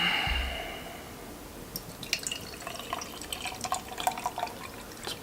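Claimstake Brewing Pavlo double IPA poured from the can into a glass, starting with a short splash and then a soft, steady trickle with small fizzing and dripping ticks, quiet and close.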